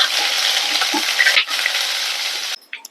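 Loud, steady crackling sizzle of curry leaves dropped into hot oil with tempering seeds, spitting continuously before cutting off near the end.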